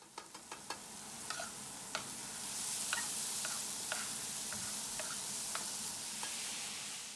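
An onion and mushroom mixture stirred in a pan, with a soft steady sizzle under a series of sharp, evenly spaced utensil clicks and taps.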